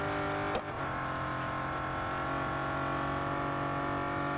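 A Bugatti Centodieci engine drones steadily in Real Racing 3, a sustained car tone with a brief sharp transient early on, mid-level and continuous with no talk.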